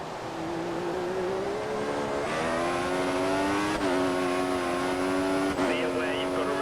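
Formula 1 car engine from the F1 2014 racing game, heard from the cockpit camera: a loud, continuous high-pitched engine whine that rises through gears with sharp upshifts, joined by a brief engine-team radio message.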